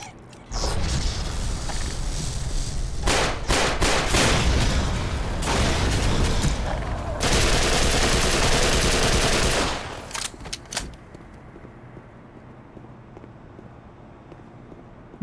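Rapid video game gunfire aimed at snark pods in Black Mesa, dense bursts of shots and loud blasts crowding together for several seconds, then tailing off into a few scattered pops over a quiet background.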